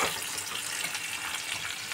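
Cabbage frying in a hot pan for a shrimp cabbage bharta, a steady dense sizzle that holds at an even loudness throughout, close by, with no talking.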